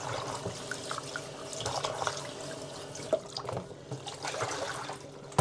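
Bullet jellyfish being rinsed under running tap water before eating: a steady splashing stream with small drips and trickles, close and fairly quiet, with no voices.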